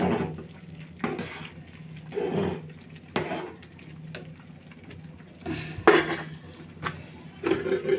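A spoon gently works through hilsa pulao in a cooking pot, giving soft, irregular scrapes and knocks against the metal every second or so, quiet and close with no talking.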